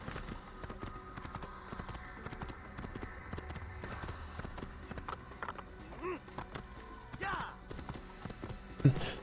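Rhythmic hoofbeats of a galloping horse in Assassin's Creed clatter steadily over game music and ambient sound, with a louder thump near the end as the horse jumps.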